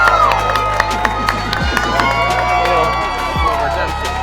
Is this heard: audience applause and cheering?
yes